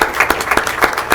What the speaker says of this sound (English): So round of applause for Tim Smith.